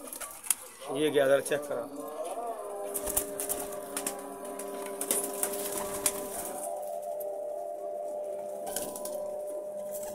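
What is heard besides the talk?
pigeons in breeder setup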